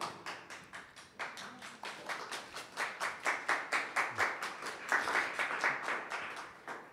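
An audience at a Haitian Creole language and culture symposium claps for the speakers in a steady, rhythmic unison beat of about four claps a second, moderately close, with no talk over it.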